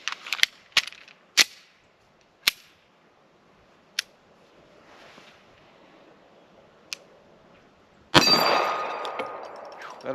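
Outdoors, a Beretta 92 pistol fires sharp, separated shots at uneven intervals, then a louder, sustained noisy burst near the end, with no talking.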